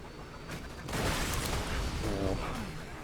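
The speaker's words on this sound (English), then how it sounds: "every explosion near me that would damage me activates a freaking nuke" Explosions going off in the video game Borderlands 2, a continuous burst of booming blasts and crackling gunfire-like bangs that swells after the first second and stays loud and dense to the end.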